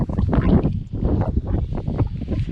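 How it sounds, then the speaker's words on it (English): Strong storm wind buffets the microphone outdoors, giving loud, continuous low roaring gusts that surge and dip without pause and no talking. "it'll be a bit too windy to talk"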